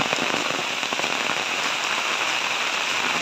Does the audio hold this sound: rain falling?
yes